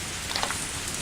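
Steady rain hissing in a video game scene, a dense broadband wash with faint scattered drop ticks, continuous and fairly close with no talking.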